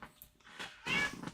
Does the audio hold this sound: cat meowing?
yes